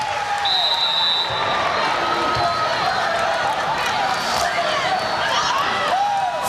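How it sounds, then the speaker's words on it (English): An arena crowd cheers at a women's college volleyball match between Hawaii and Arizona, a steady loud roar of shouts and applause that runs for several seconds while a commentator talks over it. "That'll get the crowd going, that's for sure."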